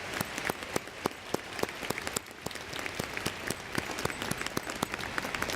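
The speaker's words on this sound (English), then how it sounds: "Please give a warm round of applause for these university leaders." Applause for university leaders at a university convocation, a large audience clapping steadily in a reverberant hall, dense patter with sharp individual claps standing out throughout.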